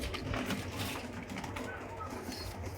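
Low, muffled pigeon coos repeat softly close by, over a faint background hum.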